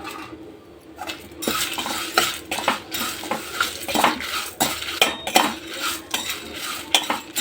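A metal spoon scrapes and clatters against a pan in rapid, uneven strokes while fried rice and spices are stirred and mixed for tamarind rice, close and loud, with a faint sizzle underneath and no voices.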